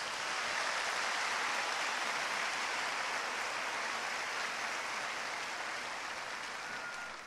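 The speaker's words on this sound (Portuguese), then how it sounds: "Dê um forte aplauso a Jesus." A church congregation at an Igreja do Avivamento service applauds steadily, a thick, continuous wash of many hands clapping for about seven seconds with no one speaking over it.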